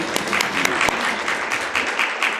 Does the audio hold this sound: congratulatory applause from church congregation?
yes